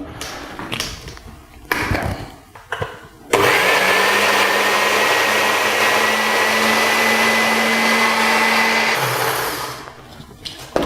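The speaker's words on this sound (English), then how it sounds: "I'm just going to blend it all up" A blender whirs loudly and steadily for several seconds, blending sauce ingredients that include mirin and soy sauce, after some clattering handling at the start, then winds down near the end.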